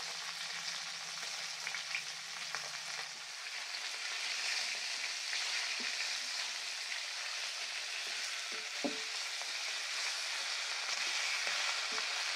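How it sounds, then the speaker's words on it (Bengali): Fish fry in hot oil in a pan, a steady close crackling sizzle with occasional sharper pops, continuing without any voices. "মাছগুলো ভাজা হয়ে গেছে, এবার তুলে নেবো।"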